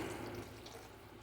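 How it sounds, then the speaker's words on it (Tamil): Water poured into a pan of ladies finger (okra) kara kulambu, a steady broadband rush like tap water filling, continuous for the whole moment at even loudness with no talk. "நான் ஒரு 150 கிராம் போல் தண்ணி சேர்த்துக்கிறேன்"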